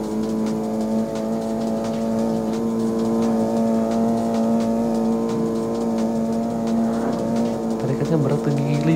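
Steady, loud race-car engine drone with strong harmonic whine in CarX Street as nitro boost is used, holding pitch before a shift near the end, with a voice talking over it.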